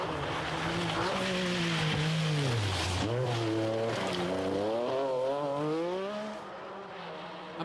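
A Metro 6R4 Group B rally car engine revving hard, pitch dropping then climbing through gear changes with a raspy roar, fading slightly at the end.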